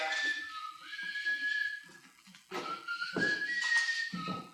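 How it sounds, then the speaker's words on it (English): A person whistles a wavering, sustained tune in long held notes, fairly close, with clattering household noises in the background. "will you cut out that bloody whistling?"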